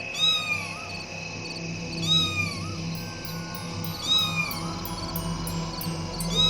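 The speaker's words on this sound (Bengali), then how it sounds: "মা, সত্যি তো কালো বিড়াল।" A black cat in an animated comedy meows several times, each call a drawn-out, bending wail spaced a couple of seconds apart over a steady low background hum.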